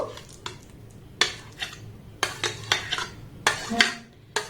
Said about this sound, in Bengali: এবার সম্পূর্ণ আমটাকে এই মিক্সির জারের মধ্যে আমি দিয়ে দেব।